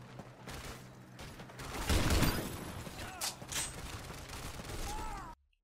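Rapid bursts of M27 rifle fire from Call of Duty Ghosts crack out in quick clusters, with a louder rattle in the middle and mechanical clicks and whooshes between shots, ending abruptly.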